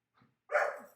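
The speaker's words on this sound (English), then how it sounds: "my dog's about to freak out" A dog barks once, close and fairly loud, after a faint short yip just before.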